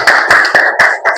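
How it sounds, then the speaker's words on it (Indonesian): Classroom of students clapping hands together in a handful of separate sharp bursts, loud and close, with no talking over it. "Ya, tepuk tangan buat kita semua dulu."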